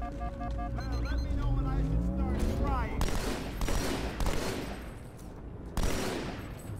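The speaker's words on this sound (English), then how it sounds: "I know how to use the battle rifle." Battle rifle fire in Halo 2 Anniversary comes as dense, steady bursts of shots over a constant rumble of game noise, loud and close, with a voice talking over it.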